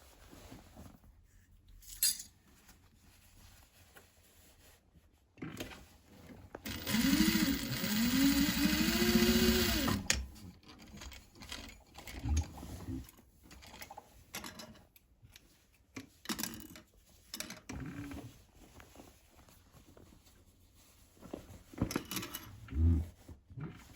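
A sewing machine runs a short burst of about three seconds while bar tacking bag straps, a close mechanical whir amid quieter handling clicks and rustles before and after.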